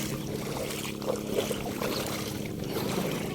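Steady wash of water and engine-like rumble from an island-hopping boat off Tingloy Island, continuous and close, with wind buffeting the microphone throughout.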